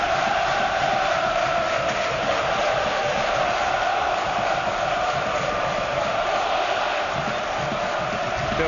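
A dense football crowd roars and cheers steadily throughout a Premier League match at Bournemouth's stadium, AFC Bournemouth against Manchester United, a loud, continuous wash of voices with no single caller standing out.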